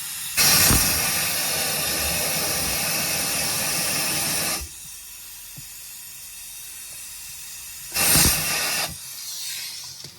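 Compressed air blasts over the end of a fuel hose during an OBS Ford fuel pump replacement, a loud close hiss lasting about four seconds, then a shorter second burst after a pause.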